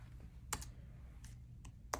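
Keys tapped on a Freewrite Traveler portable writing keyboard, a few separate sharp clicks spaced irregularly over a low steady hum, close and fairly quiet, no talking.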